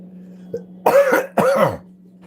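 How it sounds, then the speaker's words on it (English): Two harsh coughs close together from a person with COPD, near and clear, preceded by a faint throat sound over a low hum. "I get coughing spells because of just old age, COPD."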